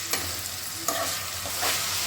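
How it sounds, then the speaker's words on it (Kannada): Boiled soybeans being stirred into a frying chayote curry, a loud close sizzle with a few scraping strokes of the spoon through the pan, no voices. "ಇವಾಗ ಸೋಯಾಕಾಳು ಬೇಯಿಸ್ಕೊಂಡಿದ್ದೀನಲ್ಲ, ಅದನ್ನು ಹಾಕಿ ಮಿಕ್ಸ್ ಮಾಡ್ಕೊಳ್ಳೋಣ."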